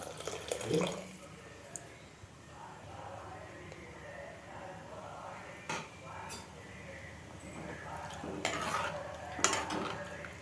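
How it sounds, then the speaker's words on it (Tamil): Dissolved tamarind water is poured into a pot of vegetables for Thiruvathirai puli kuzhambu, a quiet splashing trickle with a few soft clinks and stirring knocks, building to louder bursts near the end. "புளியை கரைச்சி ஊற்றிக்கலாம்."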